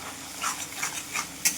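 A spice paste with salt, turmeric and Kashmiri chilli powder is stirred in hot oil, giving a soft sizzle with several brief scraping strokes and a sharper clink near the end.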